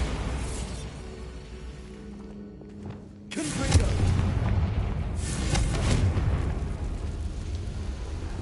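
A Bombarda blasting spell explodes in Hogwarts Legacy with a deep booming blast partway through, followed by a rumbling roll and a second swell as the explosion settles.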